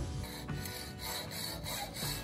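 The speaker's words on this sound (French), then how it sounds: "là on voit une scie à métaux en action, hein, sur une vis de 6" A hacksaw rasping through a metal screw in rapid, regular back-and-forth strokes, a harsh grinding scrape heard up close.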